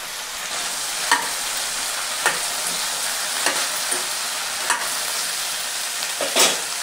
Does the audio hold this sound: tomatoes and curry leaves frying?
yes